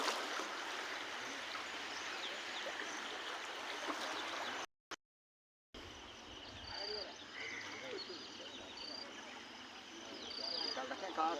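Floodwater rushes steadily past a bridge after heavy flooding, a continuous broad roar of flowing water close by, briefly cut to silence midway before resuming just as strongly.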